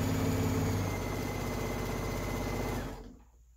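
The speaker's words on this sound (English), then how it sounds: "And we'll sew along." A sewing machine runs a continuous seam on a water bottle holder, a loud close rhythmic whirring that carries for nearly three seconds before stopping, with no talk.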